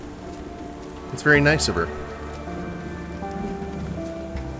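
Steady rain falls in the Victorian London streets of the video game Sherlock Holmes: The Awakened, a soft continuous patter under background music, with a short burst of speech in the middle.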